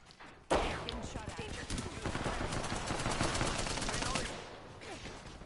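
Rapid automatic gunfire in Apex Legends, a dense sustained burst of shots erupting suddenly and rattling on for several seconds with a player's voice mixed in.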